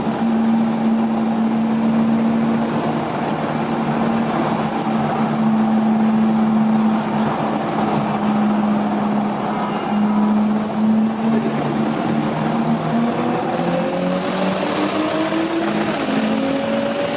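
A Toyota Supra with a 67 mm turbo and 850cc injectors running on low boost drones loudly and steadily, with a strong engine note that slowly rises in pitch toward the end and no talking.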